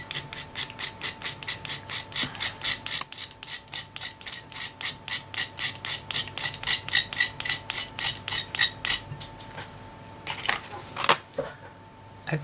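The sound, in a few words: scraping pastel colour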